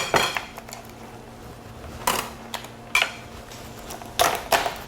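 A knife cuts a spiny lobster head into four on a board: a few sharp, separate chopping thuds with clinks between them, close by with quiet gaps.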